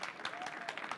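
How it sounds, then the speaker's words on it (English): A brief round of applause for teachers at an evening school gathering, steady dense clapping from a small crowd filling the whole moment. "Let's give them a round of applause."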